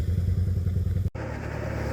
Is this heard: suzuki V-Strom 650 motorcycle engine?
yes